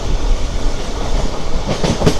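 A Charlapalli to Tirupati special superfast express train runs near Srikalahasti, its loud, continuous rumble heard close from aboard, with rhythmic clatter building toward the end.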